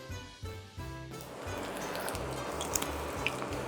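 Taiwanese popcorn chicken pieces lowered one by one into hot oil, with bursts of bubbling that build into a dense, steady crackling sizzle, close and continuous.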